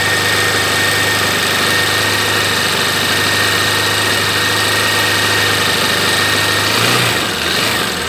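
A 2015 Honda NXR 160 Bros ESD motorcycle engine held steady around 2000 RPM, loud and close with a constant droning hum, dipping slightly near the end.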